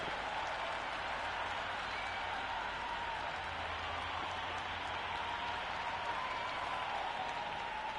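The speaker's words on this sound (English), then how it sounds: "the crowd have joined the party. It's pretty noisy at the ground." Steady, dense crowd noise fills a cricket ground in the Cricket 26 video game during a Bangladesh versus Australia T20 international, with continuous cheering and applause held at an even, loud level throughout.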